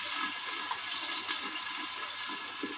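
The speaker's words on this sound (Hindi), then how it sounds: "तो हम इसमें पानी डालेंगे।" Water is poured into a pot of browned onions for a mutton yakhni pulao, giving a continuous rushing, splashing gush at moderate volume with no talk.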